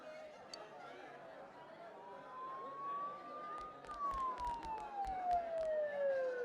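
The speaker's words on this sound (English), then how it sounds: "Don't those sirens sound really close?" A police siren in the Persona 4 Golden video game wails in one slow rising and falling sweep, moderately loud over a murmur of background chatter and scattered clicks.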